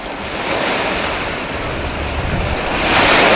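Pacific Ocean waves surging in a steady, loud wash with wind noise on the microphone, swelling louder near the end; no voices.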